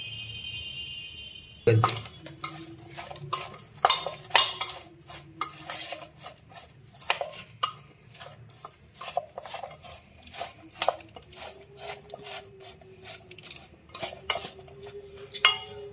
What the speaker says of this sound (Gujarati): લીંબુને અડધી ચમચ નમક નાખીને મિક્સ કરી દઈએ।